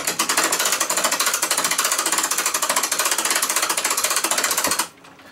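A clock mainspring wound tight with a winder while it is being cleaned and lubricated gives a loud, fast, even ratcheting clatter. The clatter runs steadily, then stops abruptly near the end.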